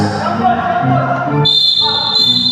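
A referee's whistle sounds midway through a senior division basketball game, a sustained shrill tone that follows a commentator's talk and crowd noise from the court.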